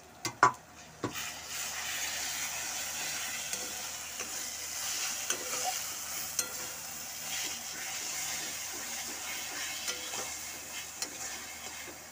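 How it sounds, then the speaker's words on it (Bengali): Ginger garlic paste fries in a pan with a steady hiss and sizzle after a couple of sharp utensil knocks at the start, with intermittent stirring clicks throughout; no speech. "এটাকে আমি ভাজতে থাকবো যতক্ষণ এর কাঁচা ভাবটা চলে যাচ্ছে"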